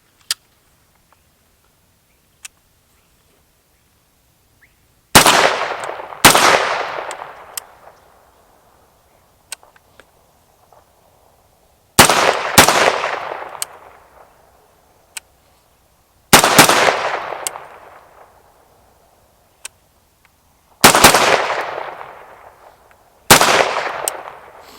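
AR rifle with a James Madison Tactical lower and Faxon ARAC 21 upper firing 300 Blackout rounds outdoors: five loud, sharp reports, each quickly doubled, spaced several seconds apart and ringing out into quiet between shots.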